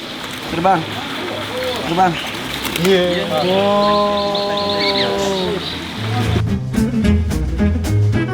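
An orange-fronted fruit dove released in an aviary, with soft repeated coos and bird calls sounding alongside a steady harmonic hum, while people talk nearby and a burst of rustling noise follows near the end.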